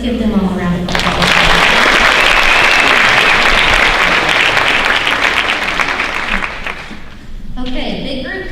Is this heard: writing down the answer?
no